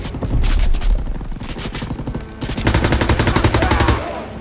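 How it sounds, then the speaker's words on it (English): Sustained bursts of machine gun fire sweeping a beach in a Call of Duty WW2 D-Day battle, loud rapid rattling volleys with a brief lull midway, dense and close with no talking. "MGs are still sweeping the beach!"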